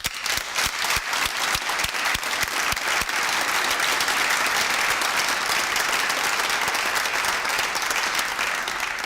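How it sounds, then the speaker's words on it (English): An audience at a master's graduation ceremony claps loudly and continuously, starting with a few distinct claps that quickly swell into sustained, dense applause. "the biggest applause possible for you"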